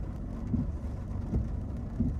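Rain falling during a drive on a local road, a steady broadband wash under low rumbling road and engine noise from inside a car, with a few brief low thumps and no talk.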